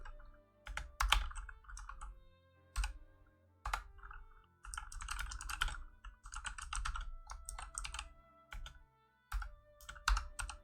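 Bursts of fast typing on a computer keyboard, close and clear, broken by short pauses, with no voices.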